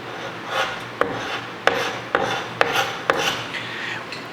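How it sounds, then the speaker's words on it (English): Repeated rasping scrapes of a hand scraper pushing heat-bubbled paint off a surface beneath a Victorian house, each stroke ending in a sharp click, about six strokes at an even pace, close and alone. "Now I can take this tool and scrape it off."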